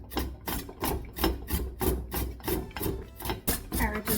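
Carrots being grated by hand on a grater make a brisk, regular rasping, about nine close, even strokes in a steady back-and-forth rhythm with no talking.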